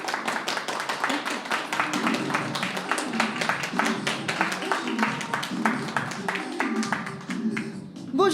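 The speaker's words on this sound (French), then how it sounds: "Applaudissements" Live studio audience clapping at the opening of a public broadcast at Le Hangar, a steady dense wash of many hands with sharp individual claps, sustained throughout and swelling slightly near the end.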